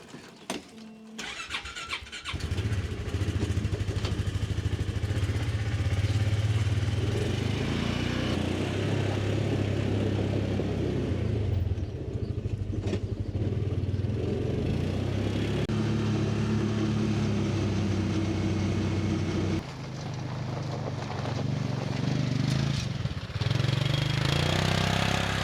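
A side-by-side utility vehicle engine runs close by on a snowy driveway, a steady loud idle after a brief start, with small shifts in pitch and a short dip near the end.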